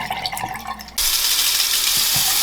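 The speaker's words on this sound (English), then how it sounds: "Cold water rinse." A kitchen tap bursts on and runs as a loud, steady gush of cold water for a rinse while making honeybee soap, after a quieter stretch of faint handling sounds.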